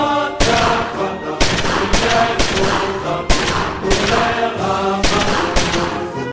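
Rapid volleys of rubber bullet gunfire crack out repeatedly in bursts, loud and close, with several sharp shots clustering every second or so against a busy background.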